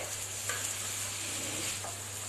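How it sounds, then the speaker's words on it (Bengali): Capsicum stirred in a frying pan, a low steady sizzle with a couple of faint utensil scrapes, quiet and continuous with a constant hum underneath and no voices. "এবার আমি এই ক্যাপসিকামটা অ্যাড করে দেবো।"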